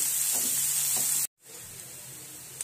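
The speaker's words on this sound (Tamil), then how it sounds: "ரெண்டு வெங்காயம் மெலிசாக கட் பண்ணி வச்சுருக்கிறேன் இது போடலாம் நல்லா ஃப்ரை பண்ணி எடுக்கணும்" Thinly sliced onions frying in hot oil, a steady close hiss with a couple of soft stirring scrapes, briefly cutting out before the sizzle resumes more quietly.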